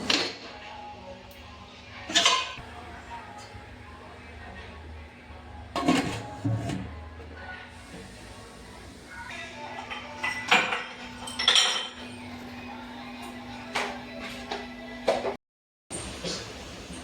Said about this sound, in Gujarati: હવે આ તૈયાર કરેલા રોલને સ્ટીમરમાં મૂકીને સારી રીતે બાફી લેશું।